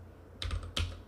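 Two quick, close keystrokes on a computer keyboard, sharp clicks a fraction of a second apart in an otherwise quiet room.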